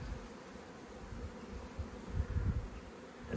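Honey bees buzzing at the front of a hive, a soft steady drone of many insects with a few nearer passes swelling briefly, faint and with no talk.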